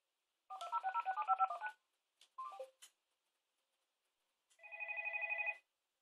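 Electronic dialing tones from a Parrot MK9200 hands-free car kit: a fast run of stacked beeps, a few short falling blips, then a steady sustained two-tone burst, all clean and close with silence between.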